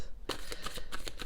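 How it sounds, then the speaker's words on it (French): Tarot cards being shuffled by hand close up, a quick run of crisp riffling flicks over about a second. "Je sais plus mélanger les cartes."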